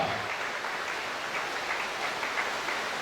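A church congregation applauds steadily at a worship service, a dense, even wash of clapping lasting a few seconds with no speech.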